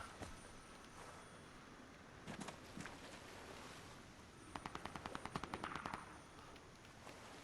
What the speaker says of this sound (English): there's a bit of shooting going on